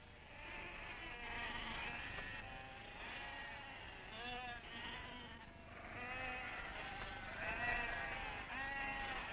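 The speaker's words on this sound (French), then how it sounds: "Le troupeau de moutons algériens oscille entre 5 et 8 millions de têtes" A flock of Algerian sheep bleating, many overlapping calls rising and falling throughout, with a constant insect-like buzz underneath, in archival footage.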